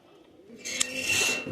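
Pigeons kept for sale in Khulna, Bangladesh, make a short bout of soft cooing and bird calls among airy background noise, rising in loudness partway through.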